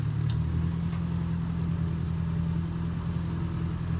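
A Ford 640 tractor engine idles steadily after a clutch repair, a close, even low rumble that holds constant without talk.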